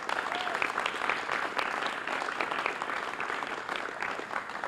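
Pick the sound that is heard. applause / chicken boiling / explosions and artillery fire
applause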